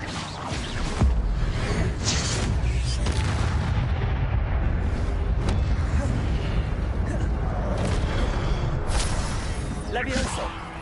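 Spell effects in a Harry Potter wizard video game, including the fiery Incendio cast, produce repeated whooshing bursts and booms over a dense, loud, continuous wash of game sound, with a voice calling out spell names.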